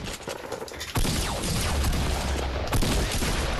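Gunfire in the Fortnite video game: a loud, sustained volley of rapid shots erupts about a second in and continues densely to the end, with a fresh burst near the close.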